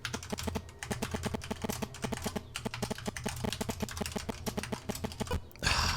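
Steady fast typing on a computer keyboard, close and crisp, an unbroken run of rapid key clicks with a slightly uneven rhythm. There is no speech.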